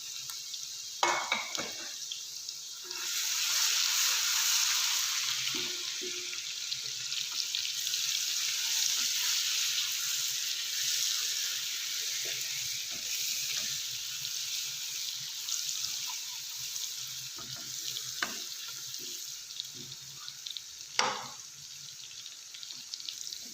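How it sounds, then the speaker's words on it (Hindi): Onions with ginger-garlic paste fry in a pan for mutton biryani, giving a steady broad sizzle with occasional stirring scrapes and clinks. "प्याज और लहसुन अदरक अच्छे से भुन चुका है"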